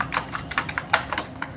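A short run of keystrokes on a computer keyboard: about eight distinct taps in an uneven rhythm, close and clear against quiet room noise, with no voices.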